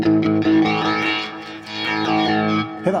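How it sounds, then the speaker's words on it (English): Chase Bliss Spectre through-zero flanger pedal on an electric guitar power chord, a sustained distorted chord with a slow, sweeping jet-like flange rising and falling, heard alone. "we're almost losing the signal and it's giving this beautiful kind of flanging sweep"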